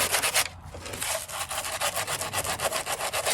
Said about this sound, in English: So make sure you secure it tightly and start sanding.